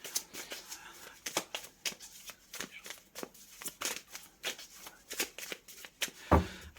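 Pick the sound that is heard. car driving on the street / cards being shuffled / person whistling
cards being shuffled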